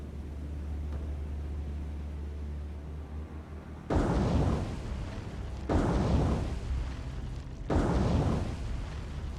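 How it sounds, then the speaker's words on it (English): Three torpedoes strike ships in War on the Sea, one after another, each a heavy, loud booming explosion with a long rumbling decay, evenly spaced about two seconds apart after a quieter stretch of low engine hum. "So of course all three of our torpedoes did hit very luckily there."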